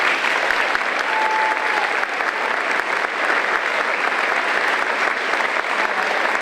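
A crowd applauds an award given to a student at a school spring night club concert, with dense, steady clapping from many hands that holds constant and loud throughout.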